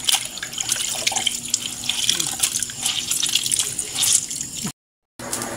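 Water splashes and trickles from cooled boiled banana heart as it is squeezed by hand, a close, continuous wet pattering that drops into a brief silence before resuming.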